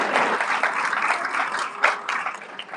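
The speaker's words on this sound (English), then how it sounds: "I know you want to clap" An audience at a conference event breaks into steady, moderately loud applause, a dense patter of many hands continuing throughout with slight swells.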